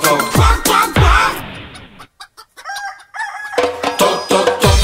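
Chicken and rooster sounds in a children's dance song: loud clucks and a crow-like cry with sharp percussive beats, in music with brief pauses.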